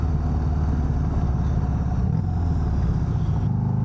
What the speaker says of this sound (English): Can you guys hear the turbo in the mic?